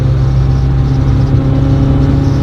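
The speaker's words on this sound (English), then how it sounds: "Watch when I accelerate." A Honda Integra engine under acceleration on a private road makes a steady, loud, low droning hum from inside the car, with no talk.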